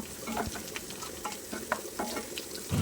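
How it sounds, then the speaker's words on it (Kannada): Grated coconut frying in a pan for a bitter gourd fry, a soft steady sizzle with light stirring scrapes and ticks, close and fairly quiet, no talking. "ಈಗ ಎರಡು ಚಮಚ ತೆಂಗಿನ ತುರಿ ಹಾಕ್ತಾ ಇದ್ದೇನೆ ಇದನ್ನು ಕೂಡ ಫ್ರೈ ಮಾಡುವ"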